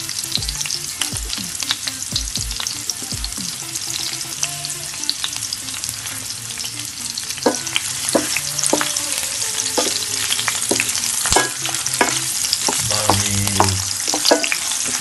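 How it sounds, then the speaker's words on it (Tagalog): Onions sautéing in hot cooking oil for binagoongang pusit, a steady loud sizzle and crackle with scraping stir strokes throughout, no voices. "mainit na yung mantika. Lagyan na natin yung sibuyas. Magigisa tayo."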